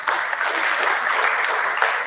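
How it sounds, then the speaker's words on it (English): A round of audience applause at the CSD 2024 event welcomes a speaker onto the stage; brief, dense and fairly loud clapping that holds steady for about two seconds. "Let's welcome him with a round of applause"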